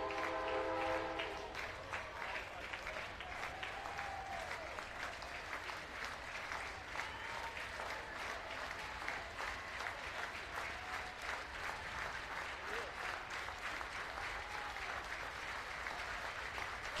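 A near-capacity crowd cheers at Baum Stadium during a 2018 NCAA baseball tournament game between Oral Roberts and Arkansas, a loud, steady roar of applause and shouting that holds without a break throughout.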